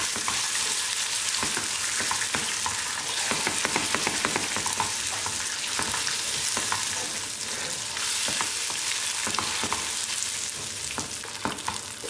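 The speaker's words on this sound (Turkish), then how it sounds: "Şeker tamamen eridikten sonra bir tatlı kaşığını böyle çok aşırı doldurmadan tereyağı ilave ediyorum." Butter stirred into melted sugar in a pan, giving a steady close sizzle with scraping stirring strokes that continue without pause.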